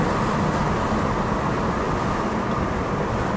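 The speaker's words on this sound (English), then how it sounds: "All right, the mufflers have been removed." A BMW M5 runs with its mufflers removed, giving a loud, constant exhaust roar heard from inside the car, with a steady dense rumble and no breaks.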